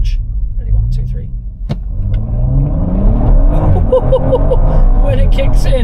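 A 450 PS Audi RS4 Avant Competition launches hard, its engine note climbing steadily into a loud, rising roar as the turbo spools, with a voice heard over the start.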